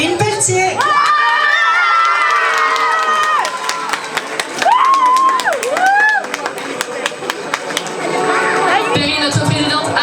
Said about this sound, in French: j'aimerais qu'on applaudisse et qu'on accueille bien fort notre chère présidente Perrine Pelletier.